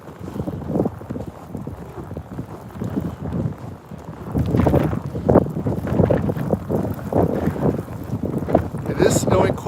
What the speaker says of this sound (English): It is snowing quite hard now. It's getting in my eyes. It is windy.